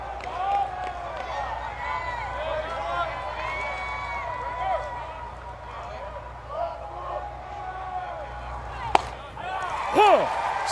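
Loud stadium crowd noise from an LSU versus Arkansas SEC Tournament championship baseball game, a constant roar with a few sharp pops, under a broadcast commentator talking close up.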